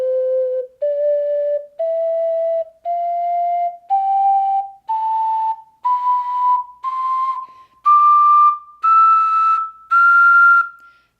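A $50 higher-quality ocarina plays an ascending scale of eleven clear, pure, whistle-like notes, each held about a second with brief gaps, close and alone.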